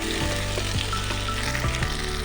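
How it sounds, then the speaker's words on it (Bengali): Cauliflower sizzles and crackles in hot oil in a wok, a close, continuous frying hiss broken by a few soft stirring scrapes. "এবার ভেজে নেব খুব ভালো করে ফুলকপিটা ভেজে নিতে হবে"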